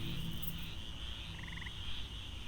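A toad croaks in the video game Empires of the Undergrowth, giving a few deep, throaty croaks over a constant ambient night drone, with no talking.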